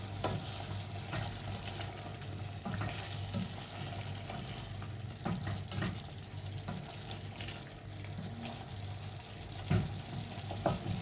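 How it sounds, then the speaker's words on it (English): Tomato paste is stirred into a chicken stew in a pot, with a low steady sizzle and soft scraping stirs underneath, quiet and continuous with no talk. "add our tomato paste so that it can cook well. Mix that up nicely."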